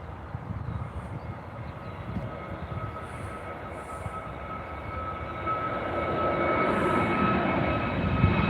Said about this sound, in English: So this is the easyJet 319 to Amsterdam. We'll watch that take off